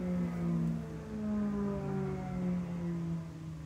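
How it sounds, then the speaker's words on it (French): Airplanes or motorcycles passing outdoors as a faint, distant drone with slowly sliding tonal whine, a steady low hum swelling and fading over a few seconds, with no talking. "Désolée pour le bruit, c'est des avions, des motos, je ne sais pas."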